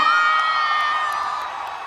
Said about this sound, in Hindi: एक बार खड़े हो जाइए और जोरदार स्वागत कीजिए तालियों के साथ।